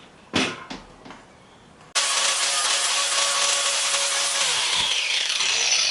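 A Stihl hedge trimmer blade is sharpened by grinding: a few short knocks, then a loud, steady abrasive rasp that starts about two seconds in and carries on close up to the end.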